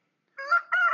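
A rooster in a chicken pen gives a short, close crow in two quick rising bursts, clear and fairly loud against a silent background.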